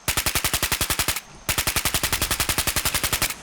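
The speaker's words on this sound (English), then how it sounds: "I test out my new machine gun version of the splatter cannon" The machine-gun version of the splatter cannon fires in Fallout 4 in two loud, rapid bursts of evenly spaced shots. A short pause breaks the bursts, and no voice is heard.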